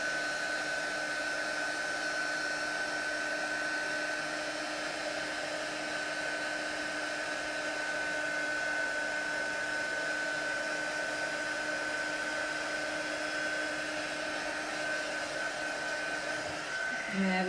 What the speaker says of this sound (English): I'm going to hold my heat gun still and kind of chase it